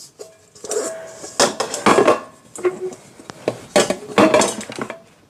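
Plastic lid and small bowl of a compact kitchen gadget handled and clicked together, a series of close clattering knocks and light clinks in uneven bursts, no voices.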